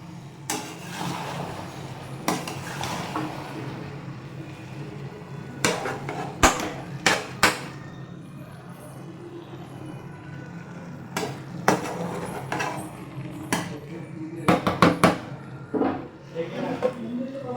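Food cooking in a covered pot is stirred, giving intermittent metallic clanks and knocks of a utensil against the pot over a low background hum, with a person talking between the sounds.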